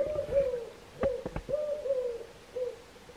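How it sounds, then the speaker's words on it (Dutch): An owl trapped inside a stove hoots in repeated low notes, muffled and moderately close, with a few sharp knocks and thumps partway through. "is er dus een uil in de kachel gevlogen"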